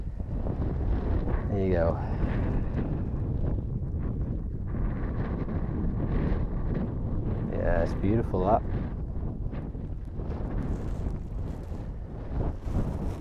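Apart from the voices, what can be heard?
gusty wind on a mountain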